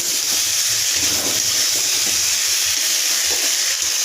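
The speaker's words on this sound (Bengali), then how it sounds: "শুধু ভালো করে কষতে হবে মোটামুটি কষা হয়েছে যতক্ষণ তেলটা পুরো না ছাড়বে" Taro and potato curry sautéing in oil, a steady dense sizzle and hiss with soft stirring scrapes throughout, close and continuous with no talking.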